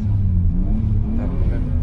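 A Toyota Supra with a 3-litre six-cylinder engine of about 400 horsepower pulls hard, giving a deep, steady drone with a wavering engine note, heard from inside the car while people talk.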